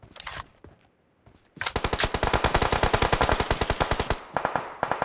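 Automatic gunfire in PUBG: a loud, close burst of rapid evenly spaced shots rattles on for about two and a half seconds, preceded by a couple of single shots and followed by a short tail of fainter fire.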